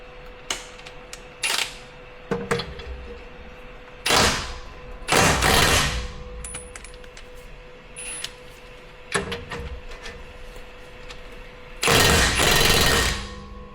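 Lower A-arm bolts come off a third-gen Toyota Tundra, with several loud bursts of a pneumatic impact wrench rattling close by, separated by quieter pauses with faint clinks and handling noises.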